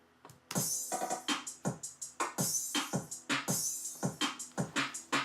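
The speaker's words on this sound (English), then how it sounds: "we have double time hi-hats" Trap drum beat at 164 BPM with fast double-time hi-hats ticking over punchy kicks and snares, loud and steady, with no voices.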